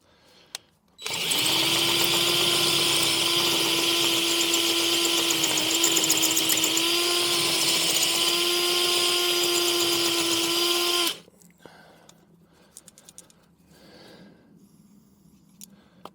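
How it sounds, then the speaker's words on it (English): A steady, high-pitched whine of a carbide bit drilling out a screw on a Mini R52 runs for about ten seconds, loud and continuous, then cuts off abruptly, leaving faint handling noises. "So I've got some carbide drill bits here and we're going to drill that out"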